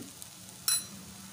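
Chopped amaranth leaves fry in a pan with a faint, steady sizzle, broken once by a brief sharp clink.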